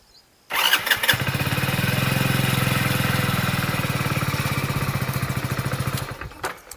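A Hero Splendor Plus motorcycle that had suddenly stopped is started with the self-start button. The engine catches with a quick crank and settles into a loud, close, rapid rhythmic idle before cutting off.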